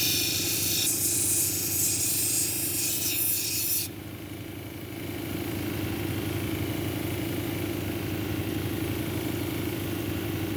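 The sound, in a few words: grinding quartz with feldspar cabochon on 220 grit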